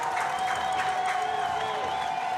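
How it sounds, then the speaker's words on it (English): Crowd at a high school football game between East Ascension and Sam Houston cheering and applauding, a loud sustained roar with shouts rising and falling throughout. "Listen to this crowd"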